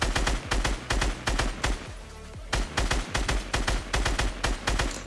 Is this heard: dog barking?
no